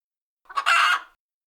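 A rooster crows once, a single loud, close cock-a-doodle-doo rising and then holding briefly before cutting off, heard alone against silence.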